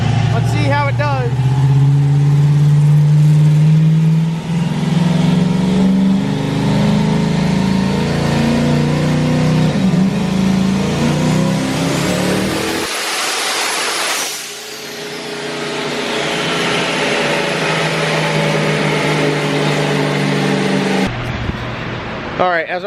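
Turbocharged Camaro engine revving hard on a dyno, a loud sustained roar with a rising whine that cuts out abruptly mid-clip, then the engine settles and builds again; people talk faintly beneath it.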